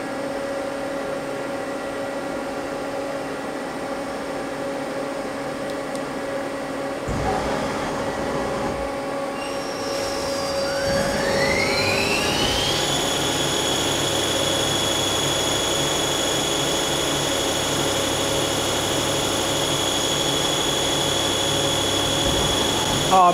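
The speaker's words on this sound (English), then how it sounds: "So now we're ready to hit cycle start. And I'm going to run it without coolant" Mazak CNC machine running a program dry without coolant, a steady mechanical hum with tonal whines, then a spindle winding up to a high, sustained pitch and staying loud.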